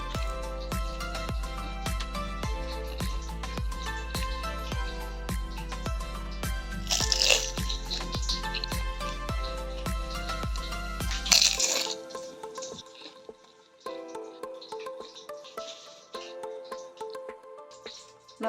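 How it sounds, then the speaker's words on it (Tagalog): Crunchy fried lumpiang shanghai spring rolls being bitten close to the mic, a steady series of loud crisp crunches with chewing, then quieter scattered crackles toward the end, no talk. "aron madungog nato kung unsa siya ka crunchy"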